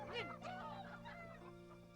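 A chicken clucks in short, warbling bursts close by, over a steady low hum.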